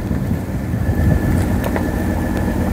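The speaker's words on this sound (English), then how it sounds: "as he goes down this slope, he's going to let the Cayenne's hill descent control system take over" A Porsche Cayenne creeps down a muddy offroad slope under hill descent control, a steady low engine rumble with faint mechanical clicks and hiss, continuous and moderately close, with no talking.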